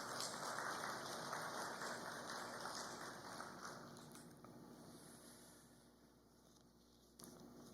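A church congregation applauding during a Sunday service, a soft, dense patter of many hands clapping that gradually fades, faint and somewhat distant.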